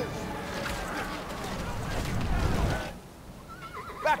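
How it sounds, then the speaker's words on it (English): Horses neigh during a video game battle in The Lord of the Rings: Battle for Middle-earth, with a loud whinny near the end over clattering combat noise and shouting voices. "Watch out for the horses!"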